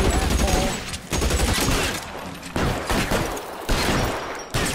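Gunfire in the video game L.A. Noire rattles in loud, dense bursts, one volley running into the next, with brief sharp breaks between them.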